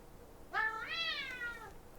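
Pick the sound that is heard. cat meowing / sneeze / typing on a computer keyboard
cat meowing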